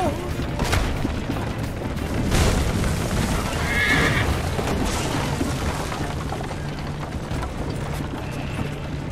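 A horse neighs loudly in the Assassin's Creed Liberation video game, a sharp whinny near the start against a dense background of game rumble and booms, with faint hoof clatter.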